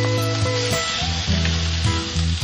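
Pork liver sautéing in a pan for paella, with a loud, continuous close-up sizzle and the occasional scrape of stirring. No one is talking.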